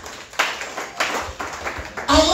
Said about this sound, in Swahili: Piga Bwana Yesu makofi